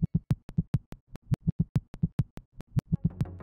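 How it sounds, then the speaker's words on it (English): Sped-up sonified pulses from the infrared jet of black hole GRS 1915 beat in a steady, heartbeat-like rhythm, about four thumps per second, loud and isolated, with a slightly noisier tail at the end. "when you speed up this sound, the black hole's infrared jet pulses sounds like a heartbeat"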